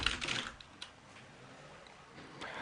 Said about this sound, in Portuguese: eu posso digitar aqui